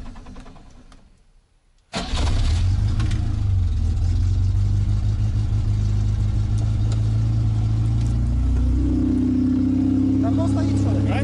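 A 1992 IZh-built Moskvich 412 with a leaky muffler that needs welding, run after twenty years sitting idle, fires up after a couple of quieter seconds and then roars loud and close with a steady, rough drone.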